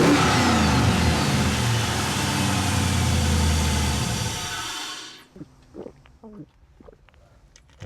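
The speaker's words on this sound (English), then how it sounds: "sounds like the LS approves of its new jam-packed dig" A Chevy Blazer 4x4's LS V8 revs loud and close, its dense roar holding for about five seconds before cutting off, then settling into a faint idle broken by short clicks and rattles.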